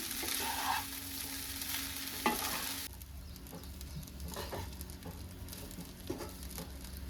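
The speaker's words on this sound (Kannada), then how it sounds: "ಇವಾಗ ರೈಸ್ ಹಾಕೊಂಡ ನಂತರ ನಾನು ಚೆನ್ನಾಗಿ ಮಿಕ್ಸ್ ಮಾಡ್ಕೊಳ್ತೀನಿ" Jeera rice stirred in a frying pan, a soft sizzle and hiss with a few scraping strokes, fairly quiet and close, no speech.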